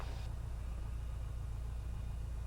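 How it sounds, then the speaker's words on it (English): Steady low engine rumble with a regular pulsing beat, a small airplane's piston engine ticking over at throttle idle with carburetor heat on, continuous and fairly close. "We're going to go throttle idle. Nice and easy."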